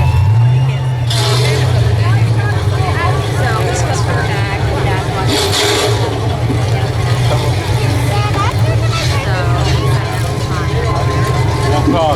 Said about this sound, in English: Let's hear those engines start up.